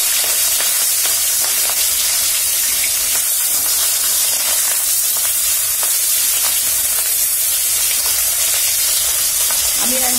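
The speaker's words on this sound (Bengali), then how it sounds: "মাছটা একটু নেড়ে দেওয়া হচ্ছে" Katla fish sizzling in hot oil while being stirred in the pan, a loud continuous crackling hiss with scattered scraping clicks and pops throughout, close by.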